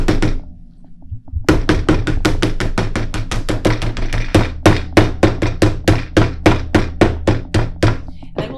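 A hammer smashes flowers onto paper with padding underneath, giving a run of sharp, close, evenly spaced knocks that speed into a steady pounding rhythm after a brief quiet start.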